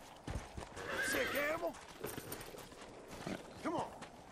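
A horse in the video game Red Dead Redemption neighs in a drawn-out whinny, then gives a second shorter whinny, with hoof clip-clops and a voice talking over the top.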